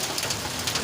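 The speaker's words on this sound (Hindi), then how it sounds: "ये बारिश बहुत तेज़ है माशाल्लाह।" Heavy rain pours down outside a vegetable and fruit shop, a dense, continuous hiss of drops striking surfaces, loud and close throughout the brief moment with no voices.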